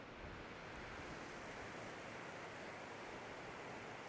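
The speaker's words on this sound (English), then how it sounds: "But I could camp here and listen to this river all night long." A clear river in Wenatchee National Forest near Naches, Washington, flows in a steady, broad rushing wash that stays even and constant throughout, with no voices.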